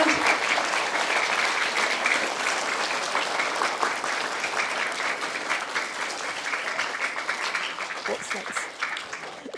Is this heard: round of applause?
yes